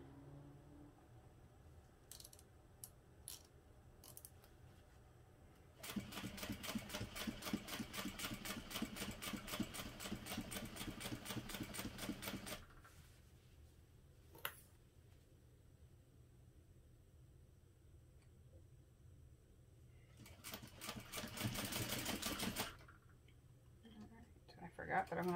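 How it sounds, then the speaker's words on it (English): A sewing machine stitches a crossbody bag seam in contrasting thread. It runs in two steady, rapid bursts of needle rattle, one about six seconds long and one shorter, separated by near-silent pauses with a few small clicks. "backed up a couple stitches, and I'm just going to baste this closed using an 1/8 inch seam allowance"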